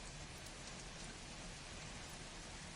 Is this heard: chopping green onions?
no